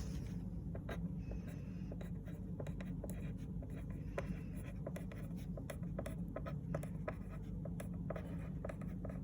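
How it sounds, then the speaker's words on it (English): Pen or pencil scratching steadily across paper as a title is handwritten, a continuous close, soft scraping with frequent small stroke ticks and no talking. "So I'm going to write that here."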